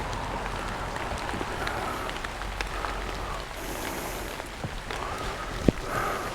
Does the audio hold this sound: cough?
no